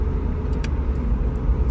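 A Honda Del Sol being driven, with a steady low engine and road rumble throughout, close and fairly loud, no talking.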